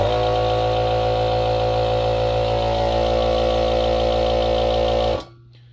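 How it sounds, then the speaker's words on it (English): A Mastercraft air compressor runs powered through a Power Jack 3000W split-phase inverter, a loud steady motor hum and drone that holds evenly, then cuts off abruptly near the end, leaving near silence. "we're gonna try this Mastercraft compressor here. This thing takes a ton of power"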